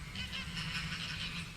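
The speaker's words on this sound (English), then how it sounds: "the residents that are making a loud noise to us, which are the geese that occupy this area" Geese at a pond beside the Hinsdale House honk in a steady, faint chorus of overlapping nasal calls, heard from a distance with no talking.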